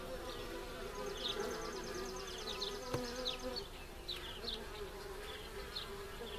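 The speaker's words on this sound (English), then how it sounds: "all those bees coming back" Bees buzz close around an opened top bar hive, with a dense steady hum and individual insects whining past at varying pitches.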